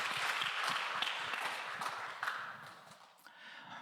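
Applause from a congregation at a Sunday youth church service, a steady wash of many hands clapping that fades gradually toward the end.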